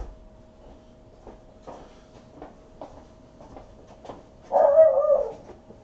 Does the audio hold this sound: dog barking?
yes